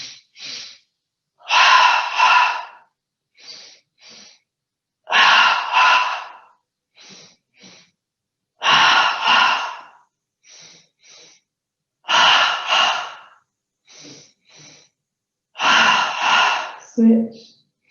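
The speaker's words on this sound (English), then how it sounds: "breathing in through the nose, out through the mouth" Slow guided yoga breathing, in through the nose and out through the mouth, comes as five long, loud breath cycles separated by quieter short breaths, regular and close, with no talk.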